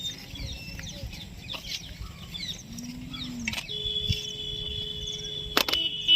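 A rescued wild bird gives short, scattered clucking calls and chirps close by outdoors, spaced irregularly over a low background hum with a few sharp clicks.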